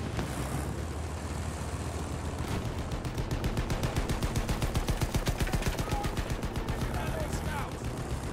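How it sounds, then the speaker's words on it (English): Machine gun fire in a Battlefield 1 battle, a sustained rapid stream of shots mixed with other gunfire and battlefield noise, steady and dense throughout. "Machine gun over there!"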